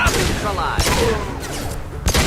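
Gunfire in Mass Effect 2, loud rapid shots cracking in quick bursts with sharp impacts at the start, midway and at the end, with a voice talking over the fight.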